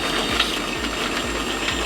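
A homemade electric wheelchair motor tested at full speed, a steady loud mechanical whir with a rhythmic ratcheting clunk repeating about every half second, close and continuous.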